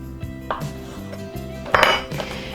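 A knife slices a rolled log of pierogi dough into pieces on a board, several crisp taps and clinks spaced unevenly, one knock louder than the rest, with no talk.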